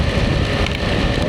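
Steady rain falling during a motorcycle ride, a dense, continuous broadband hiss and patter with no pauses, loud and close throughout the short stretch.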